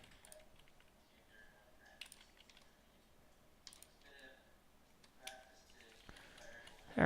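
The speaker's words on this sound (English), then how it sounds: "now the typing is more clear because they've done that" Sparse, faint computer keyboard typing during a coding session, scattered clicks and short bursts of keystrokes with long gaps, quiet and close.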